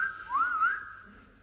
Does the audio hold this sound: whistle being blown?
yes